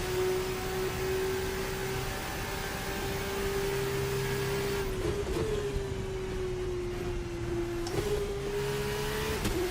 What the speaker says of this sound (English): It sounds like a bloody onboard from like a real car.